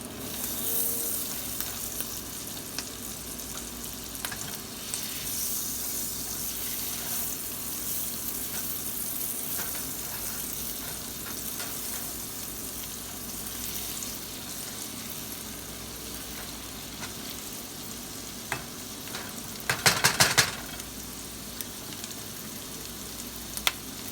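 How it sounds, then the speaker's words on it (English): Butter and garlic sizzle steadily in a pan through a long stretch of sauté, a constant hiss at moderate loudness broken by brief utensil clatters and one louder scrape. "Saute it with some butter and garlic"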